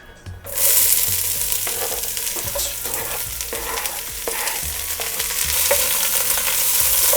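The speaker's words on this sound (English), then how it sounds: "we're going to saute the onions" Onions sauté in hot oil in a pan, starting with a sudden loud sizzle that then holds steady and close, with repeated stirring scrapes and no talking over it.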